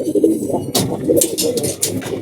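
Racing pigeons coo close by in soft, throaty bursts, with rustling wing flaps and scuffling mixed in; no speech.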